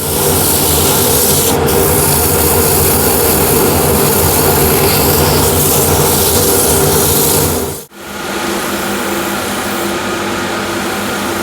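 Steady, loud whirring hum of a 6mm drill bit boring shallowly into an old window sill wood box lid, running continuously before stopping abruptly, then a duller motor whir resumes.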